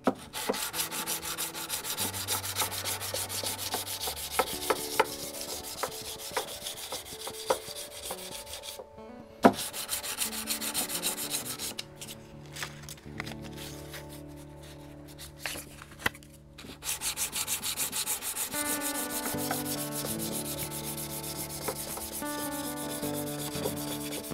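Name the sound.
sanding guitar frets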